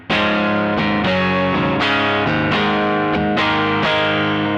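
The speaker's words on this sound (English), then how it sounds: "I'm going to turn on the tube screamer side of this right now on the neck pickup" An electric guitar on the neck pickup through a Tube Screamer overdrive pedal plays a short run of plucked notes and chords, warm and slightly gritty with pushed mids, with no talking.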